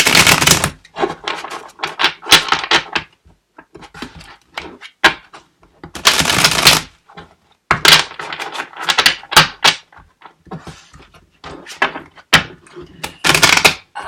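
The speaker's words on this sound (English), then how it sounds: "I'm just going to shuffle these a little bit." Old, sticky cardboard playing cards being shuffled by hand, giving bursts of dense riffling clatter separated by short pauses, close and fairly loud, with no talking over it.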